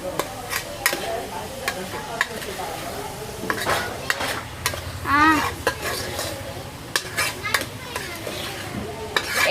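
Boiled corn cobs are mixed with salt and chili in a pan, giving repeated scraping and clattering of a utensil against metal with light sizzling, while voices and children's sounds carry in the background.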